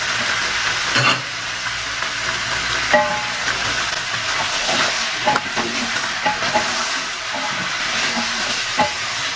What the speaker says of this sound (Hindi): तो तकरीबन 5-6 मिनट इसको फ्राई करेंगे।